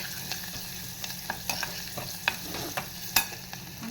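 Four or five crushed garlic cloves and onion sauté in hot oil over a low gas flame, giving a quiet, steady sizzle punctuated by light scraping and clicking from stirring.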